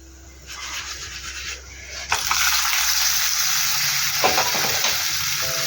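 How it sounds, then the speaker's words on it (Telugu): Hot oil tempering sizzles and hisses loudly, rising sharply partway through as it is poured into an oats mixture, with scraping and stirring continuing steadily to the end. "స్టవ్ ఆఫ్ చేసి పోపు ఓట్స్ మిశ్రమంలో వేసేసుకుందాం"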